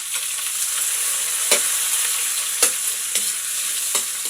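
Onion and tomato sautéing for pork caldereta, a loud, close, steady sizzle of spattering oil punctuated by several sharp stirring clacks against the pan.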